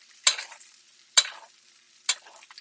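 Steak basted with caramelized butter in a pan gives three short, bright bursts of sputtering sizzle at regular intervals, each spooning splash fading quickly into near quiet.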